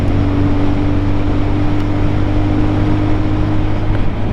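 A brand-new Lifan KPM 200 motorcycle engine on its break-in ride holds a steady, loud, close drone while climbing a hill at speed, with a constant buzzing hum and wind rush and no talk.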